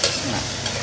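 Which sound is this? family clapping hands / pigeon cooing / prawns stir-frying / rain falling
prawns stir-frying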